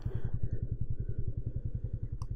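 A Suzuki Gixxer FI non-ABS disc-brake motorcycle rides on a highway at midday, its engine making a close, rapid, even thumping pulse throughout the short clip, with no talk.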